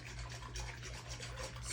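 A dough whisk stirs sourdough starter into water in a bowl, making soft, rhythmic scraping and rubbing swishes over a low background hum, close and quiet, with no talking.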